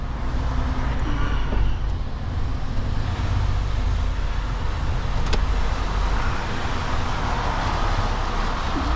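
A big truck hauling an old machine rolls down a narrow Welsh lane, its engine and road noise a continuous loud, close rumble with no break.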